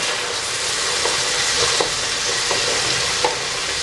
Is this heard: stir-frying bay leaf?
yes